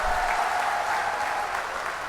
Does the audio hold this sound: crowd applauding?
yes